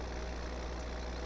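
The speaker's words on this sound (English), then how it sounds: "So we'll drive the tractor up the side here" A tractor engine driving in Farming Simulator 17, a steady low droning rumble with a constant hum, fairly quiet and unchanging, with no voices over it.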